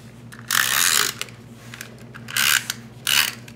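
A snail tape runner rolls adhesive onto red card stock, making short ratcheting, raspy clicking bursts in three separate passes, close and fairly loud with quiet gaps between.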